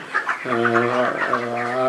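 Chickens cluck and call close by on a poultry farm, several birds at once in a short, busy burst.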